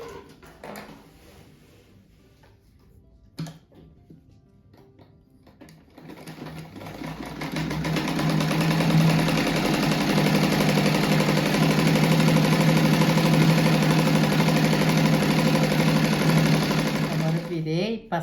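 Sewing machine stitching fabric for a rabbit-shaped rug, starting after a few quiet seconds with scattered handling noises, then running steadily and loudly for about ten seconds before stopping.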